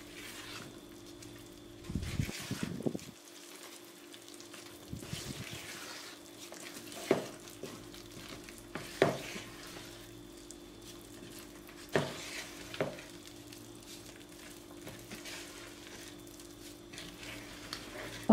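Dough ingredients for cocas de pimientos y salchichas being mixed by hand, with soft, wet squelching and patting in irregular bursts, faint and close in a quiet room.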